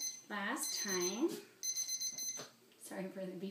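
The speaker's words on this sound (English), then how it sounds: "Sorry for the beeping." Repeated electronic beeps in short bursts, sounding alongside a person talking.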